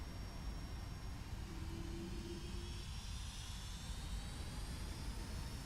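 Boeing 757 engines in a flight simulator spooling up for takeoff, a steady loud jet roar with a rising high whine, continuous and close, no talk.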